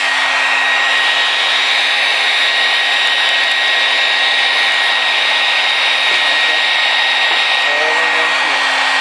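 A hair dryer blows steadily and loudly for about nine seconds, heating a sticky floor tile so it can be lifted; the whine stays constant throughout with no talking over it.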